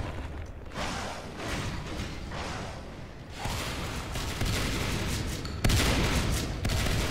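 Shotgun fire in the Natural Selection 2 video game, a busy fusillade of blasts and thumps that grows louder with sharp booms near the end, under a dense game soundscape.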